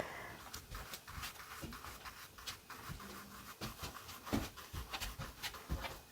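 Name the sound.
dogs walking around and panting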